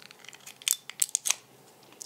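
A thin plastic bag is pulled out of a small Sonoff ZigBee smart-home device, making a few quiet, crinkly rustles and short scratchy bursts, close by with no talking.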